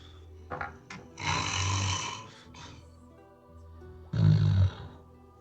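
A voice imitates snoring during a tabletop role-playing session, a few breathy rasping snores with a long loud rumbling one near the end.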